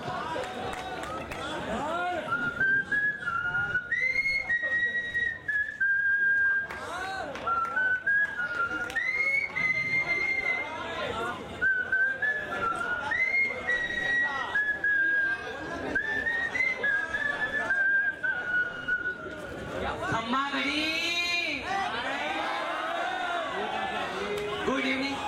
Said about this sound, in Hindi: सीटी बजाना इनका टैलेंट है